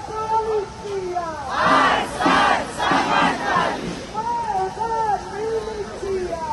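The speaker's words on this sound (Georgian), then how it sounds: "მსვლელობისას ისმოდა საპროტესტო შეძახილები." Women marching on Tbilisi's Rustaveli Avenue on day 307 of the pro-European protest shout chants in loud rhythmic bursts from a crowd, with whistle-like tones sounding intermittently around the chanting.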